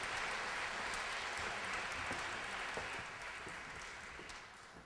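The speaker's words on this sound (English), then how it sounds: "So let's give her a big round of applause" A press-conference audience claps steadily for a speaker being introduced, a dense wash of hands that stays even and then gradually thins toward the end.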